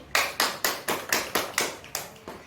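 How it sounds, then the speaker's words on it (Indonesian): Eight evenly spaced sharp hand claps in a classroom for a student, each a crisp burst with a short decay, close and moderately loud, steady rhythm with no talking. "Tepuk tangan untuk Rani."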